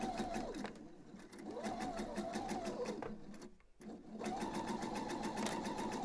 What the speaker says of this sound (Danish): her tør jeg altså godt at sy med en almindelig lige ud, fordi jeg har min elastiktråd i